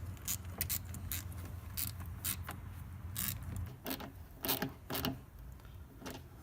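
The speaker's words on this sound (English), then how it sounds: "Then tighten down your two 8mm clamps." Tightening the two 8mm clamps on a K&N cold air intake in a Chrysler 300: quick bursts of small metallic clicks and ratcheting, close and faint, in short irregular runs.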